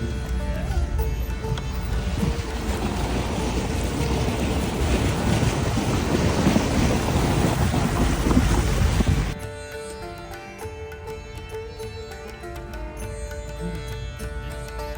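Loud, steady rush and splash of river water during a water crossing on an adventure trip through the Nepal Himalayas, lasting about nine seconds before abruptly giving way to quieter music.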